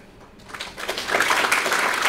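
Audience applause in a hall at a summit inauguration ceremony, swelling from a few claps into dense, sustained clapping from a large crowd.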